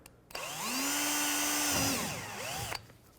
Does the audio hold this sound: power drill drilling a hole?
yes